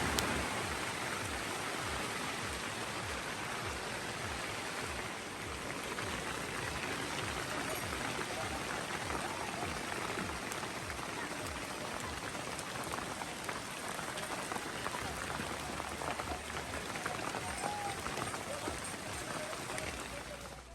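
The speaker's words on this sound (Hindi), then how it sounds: "ओले भी पड़ रहे हैं, साथ में बारिश भी हो रही है, ओले भी पड़ रहे हैं।" Heavy rain with hailstones pelting down on the Kedarnath trek, a dense, steady hiss and patter of drops and ice striking surfaces nearby, continuous and loud throughout with no break.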